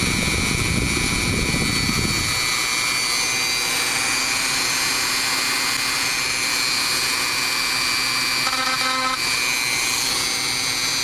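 A rotary tool at medium speed cuts a drone battery clip. Its steady high-pitched whine holds loud and close throughout, with a rougher grinding at the start as the bit bites in.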